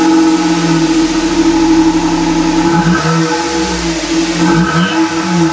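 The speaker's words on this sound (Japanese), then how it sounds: "ちょっとエンジンをかけてねマフラー音を聞いてみましょう。" A Suzuki Wagon R (MH23S) engine idles loudly and steadily with a deep, droning exhaust tone through a Kakimoto aftermarket muffler, with slight wavering in pitch.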